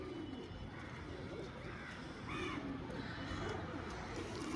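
Soft pigeon cooing repeats against a steady, noisy background in a pigeon shop, with a few faint bird calls mixed in.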